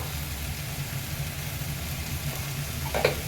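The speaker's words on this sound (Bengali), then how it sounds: "সব দিয়ে নাড়িয়ে চাড়িয়ে নিচ্ছি।" Tuna curry spices with ground cumin and red chilli powder frying and being stirred in a pan, a steady soft sizzle under low background hum with a few light scrapes near the end.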